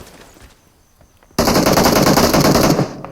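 Sustained automatic gunfire from a PUBG Mobile match on the Livik map bursts in loudly after a quiet stretch of faint background, holding as a dense rapid rattle for about a second and a half before cutting off.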